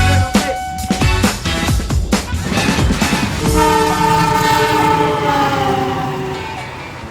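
A train rumbles past close by with clattering wheels and rhythmic knocks, then a long, loud horn blares and sustains as the rumble fades.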